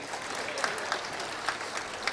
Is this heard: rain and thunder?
no